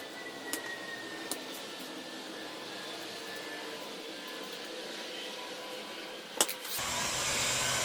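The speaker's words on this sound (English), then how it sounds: "So I've just used my heat gun here." A heat gun shrinking heat shrink tubing over wires for an outboard ignition: a steady airy blower whir runs throughout, interrupted by a few sharp clicks, then switching to a louder, fuller hiss near the end.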